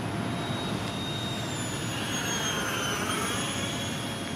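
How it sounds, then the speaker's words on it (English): A Freewing YAK-130 6S radio-controlled scale model jet flies past with a continuous high electric ducted-fan whine that shifts in pitch as it passes, steady and fairly loud with no talking. "Oh, this is a jet."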